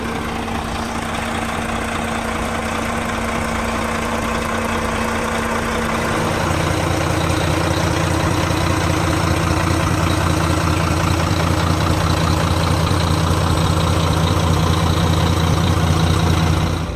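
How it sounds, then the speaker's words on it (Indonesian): A Volvo B11R coach with a D11C 450 hp Euro 5 diesel engine idles close by, a steady low rumble that grows slightly louder and heavier about six seconds in and holds there. "kondisi pada saat posisi idle, teman-teman. Volvo D11C 450 horsepower, gokil."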